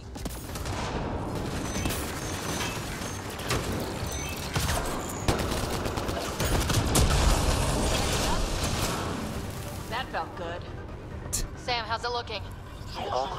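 Automated turret firing in the Mass Effect Andromeda video game, a dense, sustained fusillade of rapid shots with heavy blasts and impacts, loud and continuous, with voices talking over the clamor toward the end.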